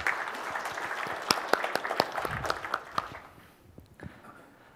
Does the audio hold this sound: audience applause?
yes